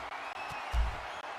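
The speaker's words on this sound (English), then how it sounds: "we see the crowd roaring for the Emo Boys reunion here" A wrestling video game crowd roars in a steady, wide wash of noise with one brief swell, with no talking.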